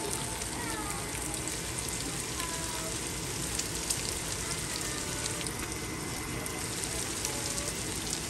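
Sausage frying in a pan, giving a steady, dense sizzling hiss that stays even and close for the whole stretch with no pauses.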